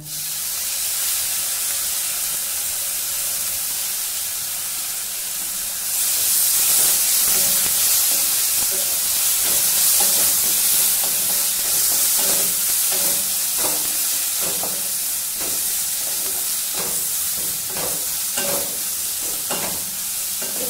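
Green chili and garlic paste sizzles in a pan with fried onions, a steady close hiss that swells louder partway through, with repeated scraping and stirring strokes throughout and no talking.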